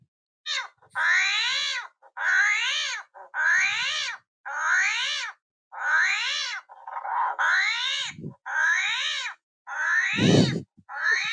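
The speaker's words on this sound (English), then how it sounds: "It's an armadillo who is sort of stress alarming." An armadillo's stress alarm call: a series of repeated harsh, wavering calls, about ten in a row at a steady rhythm, loud and close, with a few low grunts between them.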